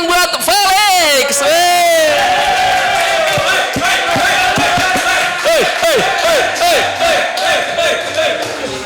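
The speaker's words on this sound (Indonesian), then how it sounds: "Tepuk tangan buat Felix." Studio audience at a comedy talk show roars for Felix with loud whooping, cheering and shouted calls, a boisterous crowd peaking early then continuing with rhythmic chanting and clapping.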